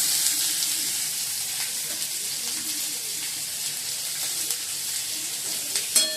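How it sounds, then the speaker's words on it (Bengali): Chopped onion sizzles in butter with minced garlic in a pan, a steady, close, bright frying hiss that runs continuously with occasional faint crackles and no talking. "পেঁয়াজটা একটু হালকা করে একটু ভাজা ভাজা হলে তারপর টমেটো কুচি দেবো"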